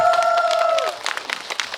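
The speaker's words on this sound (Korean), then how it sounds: "박수 한번 좀 부탁드리겠습니다." Applause from a cinema audience at a film screening event in a CGV theatre, a moderate burst of clapping starting under a faint tone and continuing to the end.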